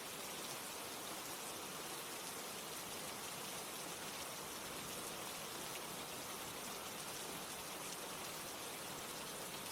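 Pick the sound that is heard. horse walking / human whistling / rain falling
rain falling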